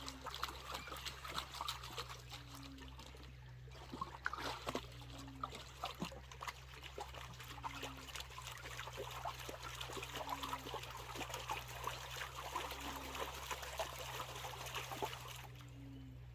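Water trickling and dribbling from a gold pan during outdoor panning, a faint steady stream with small splashes, fairly close and continuous over a low background hum.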